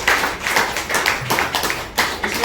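Audience in a hall claps hard for a woman at a business talk, a loud, steady burst of close hand clapping with no speech over it.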